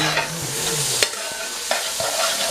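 Butter melting into oil in a roaster pan for shrimp and sausage Creole, a steady sizzle and fry with a few sharp utensil taps and scrapes, close and alone without talking.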